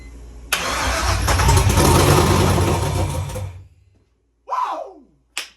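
A BMW E46 with a swapped LS engine cranks and fires into a loud rough rumble for a few seconds before cutting off, followed by brief excited shouts.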